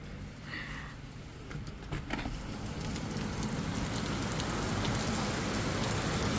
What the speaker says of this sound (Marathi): छोटा नाही मोठा पाऊस आहे